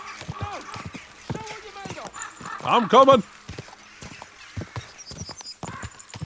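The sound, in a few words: horse galloping in Kingdom Come Deliverance 2 video game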